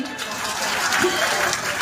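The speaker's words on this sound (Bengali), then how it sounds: "রিপন ভাইয়ের জন্য একটা করতালি চাই।" An audience claps for Ripon at a gathering, a brief, dense burst of applause with some crowd murmur mixed in, holding steady across the short span.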